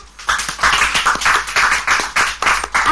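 A studio audience at the French TV game show Un Mot Un Prix claps steadily for a newly arriving contestant, a dense run of close handclaps lasting about three seconds with no talking.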